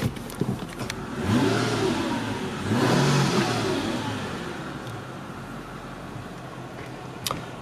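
A Mercedes-Benz CL500 engine revs up twice as it pulls away in gear, rising in pitch each time, then settles into a steady hum with a faint click near the end.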